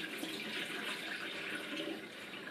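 Cloudy rice rinse water is poured out into a kitchen sink, a steady close splashing gush of water that runs for a few seconds with no talking.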